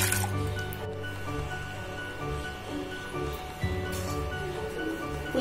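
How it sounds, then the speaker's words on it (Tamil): Tamarind water splashes and trickles steadily into a pot, with a continuous wet pouring sound and faint background hum. "புளி தண்ணி ஊத்துறோம்"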